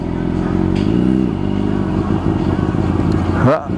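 A motorcycle rolls through a drive-thru. Its engine holds a steady, close, loud rumble, then a quick rev sweeps up near the end.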